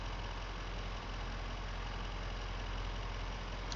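An International truck engine idles steadily in Farming Simulator 25, a faint, even low rumble that holds without change throughout, no voices over it.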